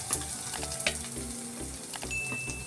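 Coconut pieces frying in oil for a Kerala-style mushroom roast, a steady close sizzle with light stirring scrapes throughout, alone without talk.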